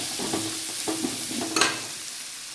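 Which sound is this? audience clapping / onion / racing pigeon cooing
onion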